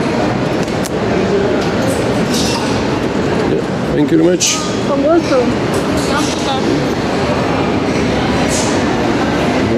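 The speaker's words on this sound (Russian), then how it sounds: "Точно электричка похоже." An electric commuter train in Medellín, Colombia rumbles steadily with a rolling, rattling clatter, while people talk briefly over the noise.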